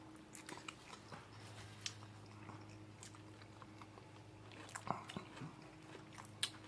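A loaded plant-based hot dog being eaten at a mukbang eating show, with quiet close bites and chewing scattered over a low hum and no clear talk.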